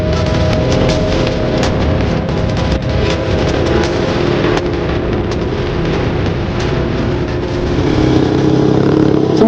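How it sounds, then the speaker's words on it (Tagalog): Motorcycles on a mountain road across a hillside make a continuous, loud, buzzing engine drone like chainsaws, rough and sustained without break. "rinig na rinig natin yung mga motorsiklo na nasa kabila nitong bundok"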